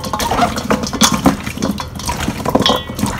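Running water splashes and gurgles as crabs are rinsed under a tap in a kitchen sink, a steady close wash with irregular sloshing and handling sounds.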